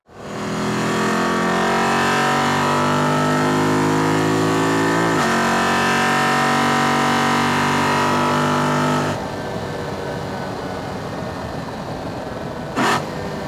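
A Lexus IS F engine with HPS and Varix X-Force catback exhaust revs hard with a deep, raspy exhaust note, pitch climbing and dropping for about nine seconds before settling into a rumbling idle.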